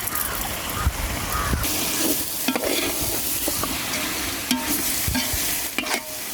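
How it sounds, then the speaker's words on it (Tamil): Small onions sauté in a pan for snail biryani, with a constant dense sizzle and a frequent scraping, knocking spoon stirring throughout. "இது வந்து ரெண்டாவது சின்ன வெங்காயம் வதங்குறதுக்கு ஒரு டேஸ்ட் இருக்கும்"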